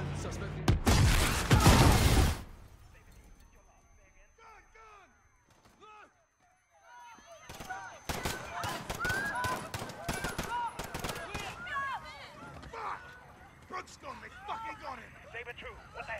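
Gunfire in Call of Duty: Modern Warfare erupts in a loud close burst at the start, then scattered shots and rattling volleys return amid shouting voices and radio-style chatter.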